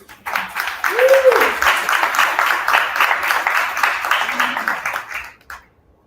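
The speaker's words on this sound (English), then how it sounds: "Give them a round of applause for that." Applause and clapping from an audience fill several seconds, fading out at the end, with a voice briefly audible underneath.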